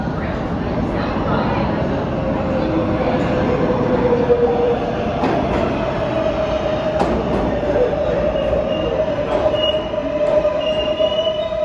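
A New York City L train on the BMT Canarsie Line rumbles along with a loud, continuous roar, wheels squealing at times and rhythmic clatter beneath, heard from inside the car.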